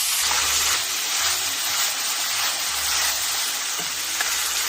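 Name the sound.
mirin added to hot pan with shallots, sizzling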